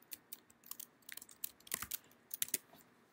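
Close, quiet keystrokes clatter on a computer keyboard while code is typed, coming in uneven bursts of light clicks with brief pauses.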